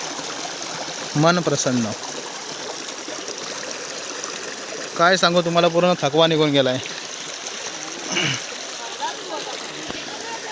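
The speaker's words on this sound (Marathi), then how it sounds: "एकदम निवळ पाणी आहे, खळखळ वाहणारा ओढा" A clear stream babbling over stones beside a temple in coastal Konkan, a steady close rushing wash of water running beneath someone talking intermittently.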